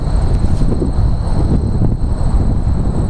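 RC MiG-15 jet model taxiing on the ground in strong wind, its steady whine and rumble heard from a short distance under continuous gusty wind buffeting the microphone.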